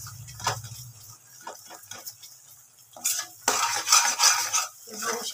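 A spoon stirs masala paste frying in oil for dhaba-style kaju curry. Metal scrapes and clinks against the pan come in uneven strokes over a light sizzle, growing louder and more vigorous toward the end.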